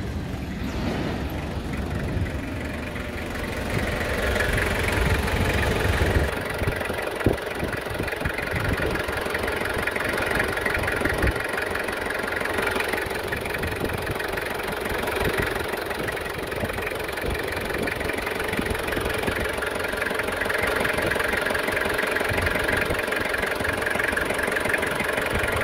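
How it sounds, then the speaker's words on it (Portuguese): A 2001 Toyota Hilux SR5 2.8 3L diesel engine idles steadily for the whole stretch, a continuous mid-pitched rumble with a faint knocking rhythm and no voices. "Esse motor tem um som característico, inconfundível e melodioso,"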